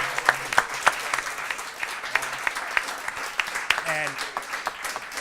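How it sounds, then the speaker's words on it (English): Audience clapping for four debate candidates at the close of a debate, scattered sharp claps over a steady wash of applause, moderately loud, with a brief voice partway through. "I would like a round of applause for the 4 candidates"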